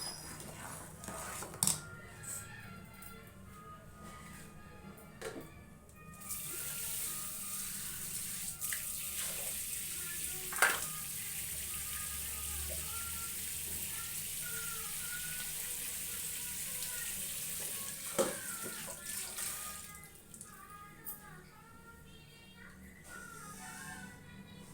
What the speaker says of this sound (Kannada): ಅದು ಕುದೀತಾ ಇರುತ್ತೆ.